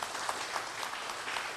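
Audience applause at a talk, a brief burst of dense clapping held at an even level throughout, fairly faint.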